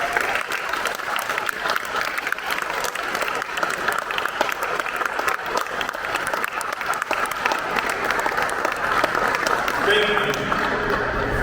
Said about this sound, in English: Once again, let's give them a round of applause.